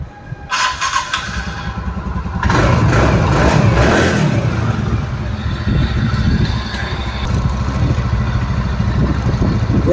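A TVS Ntorq 125 scooter with a freshly refitted engine cylinder block starts and runs nearby, its steady engine drone rising after a brief start-up, continuing loud and even throughout.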